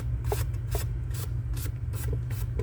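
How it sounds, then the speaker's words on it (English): Someone sands a hanger by hand in a steady rhythm of about six rasping back-and-forth strokes, close and clear over a low background hum, with no talk. "I can sand that off of the hanger."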